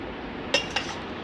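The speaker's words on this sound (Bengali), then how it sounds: "বন্ধুরা ভাত বেড়ে দিচ্ছি" Utensils and dishes clink as rice is served onto plates at home, two short clinks against a quiet background with no talking.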